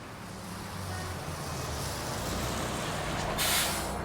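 A bus pulls in with a low rumbling engine and ends with a sharp hiss of air brakes released near the end.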